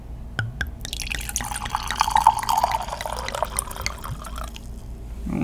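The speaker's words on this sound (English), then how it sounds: "Here comes the pour." Wine poured into a glass at home, a continuous liquid stream with trickling and gurgling that builds in the middle and then tapers off, with soft clinks at the start.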